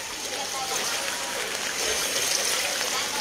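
River water flowing at Tutupor, Don Manuel, heard as a steady broad rushing wash, fairly close and continuous, with a voice talking over it.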